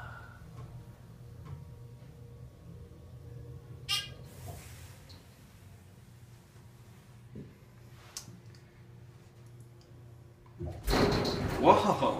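Rough-running Dover Impulse elevator door at a campus center in St. Mary's City, Maryland: low motor hum with scattered clunks and a rattling knock, ending in a loud scraping burst as the door moves, with some talk nearby.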